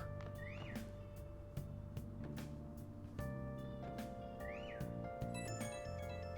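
A cartoonish video-game cat meows twice in Persona 5, short rising-falling calls spaced a few seconds apart over game music with a steady beat and sound effects.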